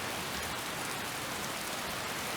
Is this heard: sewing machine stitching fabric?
no